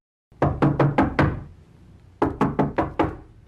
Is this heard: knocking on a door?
yes